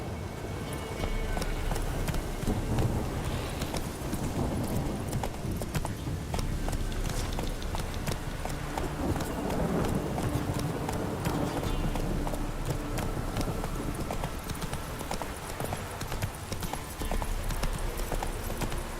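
In The Witcher 3, a horse gallops steadily, with rapid rhythmic hoofbeat clip-clops running nearly twenty seconds over a low background bed of game ambience.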